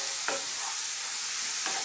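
Curry spice powders being stirred in a hot pan give a dense, even hiss of frying with a couple of brief scraping strokes, close and steady.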